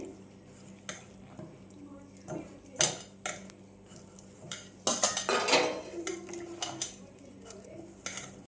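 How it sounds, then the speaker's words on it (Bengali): A spoon stirs arrowroot with a little water in a bowl, giving close, irregular clinks and taps against the side with soft swirling between them. "অ্যারারুটটা গুলে নিচ্ছি অল্প পরিমাণ একটু জল দিয়ে"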